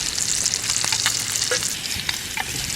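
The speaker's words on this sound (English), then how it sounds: "Looks like the sausage has had all the cooking it needs." Sausages sizzle and fry in a pan on a camp cook stove outdoors, a close, continuous crackle with scattered pops and spits and no talking.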